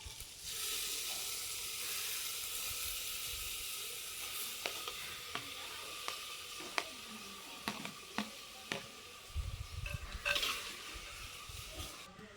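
Chopped tomatoes hit a hot pan and sizzle with a steady frying hiss, marked by a series of spoon clicks and scrapes as they are stirred, followed by a louder burst of sizzling near the end.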